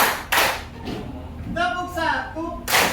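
Schoolchildren in a classroom playing a counting clap game, a few sharp hand claps sounding among loud voices and shouting, with a sung or called-out phrase partway through.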